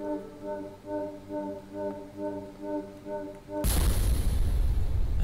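Explosion in a retro video game, a sudden loud noisy burst that cuts in after a steady chiptune-like tonal loop and keeps roaring to the end.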